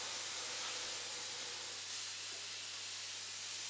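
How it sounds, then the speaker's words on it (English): Steam from a small gas-fired boiler at 60 pounds pressure escapes in a steady, loud, broadband hiss that holds constant and close throughout with no voices. "I'll show you how much steam comes out at 60 pounds."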